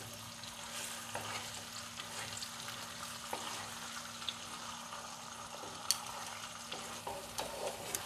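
Pointed gourd chicken dorma masala stirred and frying in leftover oil in a pan: a steady low sizzle with occasional scrapes and clicks of the spoon, fairly quiet and continuous, with no talking.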